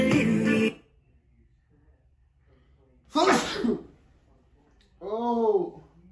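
Two sharp, loud sneezes a few seconds apart, followed by a short burst of talking.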